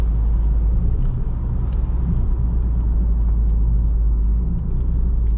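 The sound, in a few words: 2021 Toyota Camry TRD V6 driving on road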